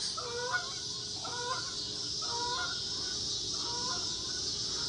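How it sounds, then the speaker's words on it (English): Repeated quacking honks in short bursts, about four calls spaced across the stretch, over a steady outdoor hiss. "hey, there's some ducks."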